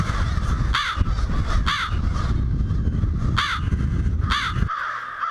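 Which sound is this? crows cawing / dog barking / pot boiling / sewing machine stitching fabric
crows cawing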